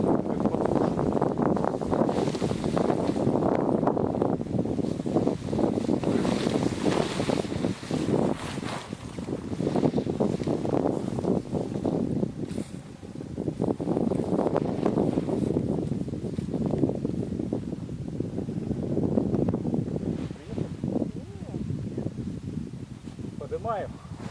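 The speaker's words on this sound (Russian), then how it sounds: "Малейший ветер и все" Wind gusts across the winter tundra near Vorkuta in the Komi Republic around a tent camp, a continuous rushing roar with surging gusts and buffeting on the microphone, with voices talking intermittently underneath.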